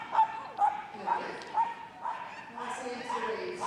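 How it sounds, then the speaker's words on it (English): Dogs barking during a Crufts agility jumping competition, a series of sharp, repeated yips and barks in an echoing indoor arena, mixed with a commentator's voice. "to the sounds of barking enjoyment"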